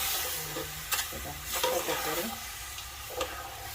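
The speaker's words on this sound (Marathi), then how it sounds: "आणि मस्त असं मिक्स करून घेणार आहोत" A spoon stirs stingray fish curry masala in a pan, giving soft scraping and a quiet, continuous sizzle with a few brief louder stirring strokes, close and fairly faint.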